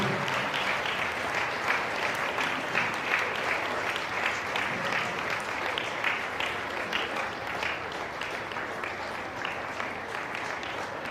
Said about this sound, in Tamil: எல்லாரும் கைதட்டி அவர்களை பாராட்டும், உற்சாகப்படுத்தும்.